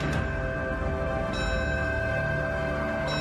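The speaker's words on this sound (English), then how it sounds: "with the tolling of a fire bell and the sound of taps" A fire bell tolls at a solemn ceremony marking the end of the World Trade Center recovery and cleanup, with struck metallic rings recurring slowly and resonant overtones lingering in a reverberant space.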